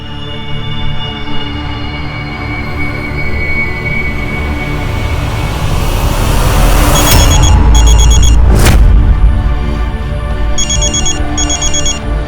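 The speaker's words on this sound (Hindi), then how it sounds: "अच्छा, तुम्हारा फोन बज रहा है?" A mobile phone ringing, a tonal ringtone that starts partway through and repeats in short bursts over a loud, rumbling train-like background, with a sharp burst of noise between rings.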